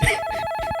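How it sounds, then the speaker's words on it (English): A telephone rings with an incoming call, a short electronic ringtone burst with a steady tone and pulsing beats, loud and close, with no talking. "Oh, we're getting another phone call."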